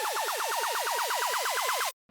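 Tech house riser with an up-filtered sweep: a dense noise wash with a fast repeating swooping tone over a steady high note, building for about two seconds before stopping abruptly.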